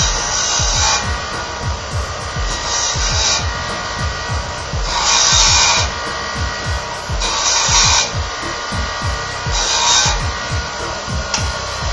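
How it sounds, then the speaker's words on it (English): A rotary grinder wears down a rivet head on a small brass clip from a jumper cable, a steady rasping whir that rises in five louder bursts as the tool bites, close and continuous with no talk. "I'm going to grind that off so I can get the rivet out of this little brass clip."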